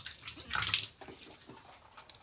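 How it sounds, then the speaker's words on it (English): Water splashes at a running tap as a man wets his face before shaving, a short, close burst of splashing and trickling water with no talk. "let me wet the face a little."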